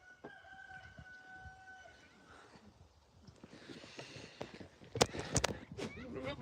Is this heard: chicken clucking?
yes